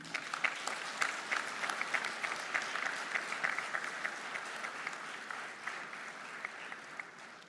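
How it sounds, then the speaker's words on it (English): An audience at a maritime safety and security event claps loudly and continuously for the Indian Navy, dense applause that stays strong before tapering slightly near the end. "a very loud round of applause and respect for the Indian Navy."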